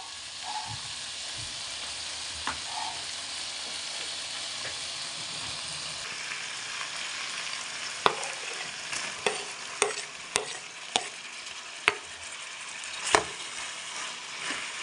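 Tomatoes sizzle steadily in a hot pan while making palak chicken, a continuous frying hiss with sharp clicks and scrapes of stirring in the later part.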